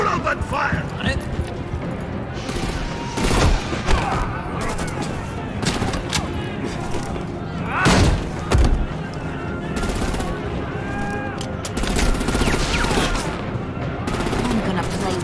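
Rapid automatic gunfire from a Batman: The Enemy Within shootout, continuous volleys with sharper single shots and impacts scattered through, loud and near, with voices shouting over parts of it.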